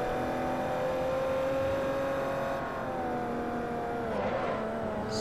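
Aston Martin race cars from an Aston Martin Cup race in Forza Horizon hold a steady, close engine drone with rising and falling revs, running alone without talk.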